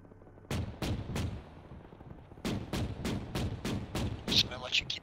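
Repeated loud gunfire bursts from an armored vehicle's weapon in the Arma military video game, heavy evenly spaced booming shots in two volleys over radio-style background noise.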